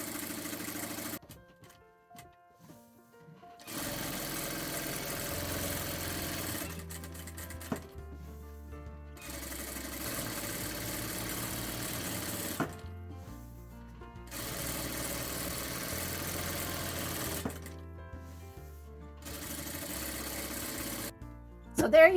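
An industrial sewing machine stitches in several sustained runs, each a steady mechanical whir and hum lasting a few seconds, separated by short quiet pauses, close and clear.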